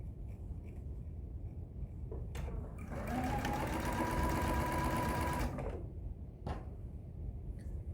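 A sewing machine chain-pieces quilt pieces for a star table runner in one steady burst of rapid stitching lasting about two and a half seconds, with soft handling noises before and after it.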